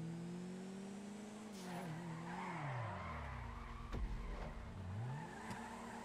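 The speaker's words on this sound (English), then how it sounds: "this is a good drift race" A car drifting in the video game GTA 5, engine revving up and down with sustained tire squeal and skidding, steady and fairly close with no talk.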